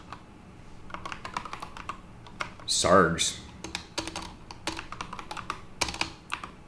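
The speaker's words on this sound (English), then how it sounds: "I'm having a rough time typing today" Rapid uneven typing on a computer keyboard, a close series of clicky keystrokes with a brief spoken word partway through.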